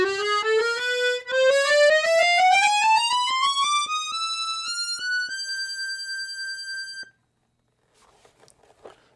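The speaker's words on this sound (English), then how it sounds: "So this is the sound of accordion." A reedy accordion tone from a Fisitalia Junior 5-row B-system chromatic button accordion, with wavering tremolo, glides steadily upward in pitch, then holds a sustained note before cutting off, followed by faint scattered clicks.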